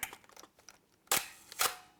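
A Zenza Bronica S2A medium format camera's shutter fires with two sharp, close mechanical clacks about half a second apart, following a few faint handling clicks, with no talk.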